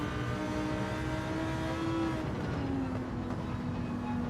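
Lamborghini Huracan GT3 race car engine in a racing video game, a sustained droning rev whose pitch climbs, eases and climbs again, steady and close with no talk.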